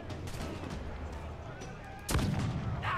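A shot at a barrel in Assassin's Creed 4: Black Flag lands as one sharp, booming blast about two seconds in, over a low rumbling game background.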